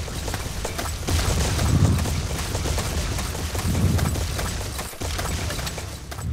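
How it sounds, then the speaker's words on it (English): Loud, dense gunfire and rumbling airstrike explosions from the blocky shooter game Ace of Spades roll on continuously, with heavy low booms swelling near the start and again midway. "Oh no, they called an airstrike."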